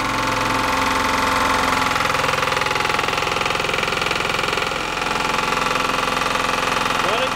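A Lombardini diesel engine on a Wanco arrow board sign trailer runs steadily at idle, a loud continuous low chug with mechanical knock that shifts slightly in pitch midway as it takes load, heard close up.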